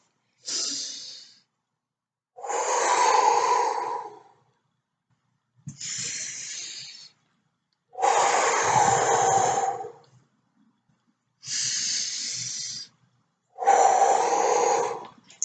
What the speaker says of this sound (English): breathe in through your nose and out through your mouth